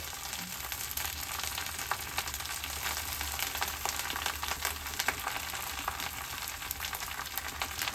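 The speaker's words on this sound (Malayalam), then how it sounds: "മുരിങ്ങൻ്റെ ഇല ഇടുക അതുപോലെ നമ്മൾ അരച്ച് വെച്ച അരപ്പ് ഇതിലിട്ട് കൊടുക്കട്ടോ" Drumstick leaves and a freshly ground paste frying in a pan give a continuous moderate sizzle, broken by occasional sharper crackles and stirring clicks, close and steady for the whole stretch.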